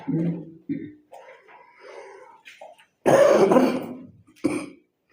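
A sick person gives several rough coughs and throat-clearing bursts, close and loud, separated by brief pauses with faint breathing and murmuring.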